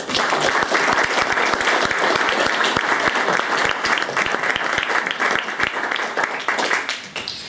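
An audience at a talk applauds a speaker, loud sustained clapping from many hands with crisp individual claps audible, holding strong before thinning slightly toward the end.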